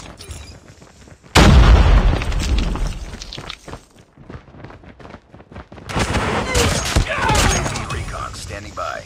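Call of Duty Mobile combat with a heavy grenade blast followed by rattling gunfire and sharp shots, loud and close, with in-game voices calling out.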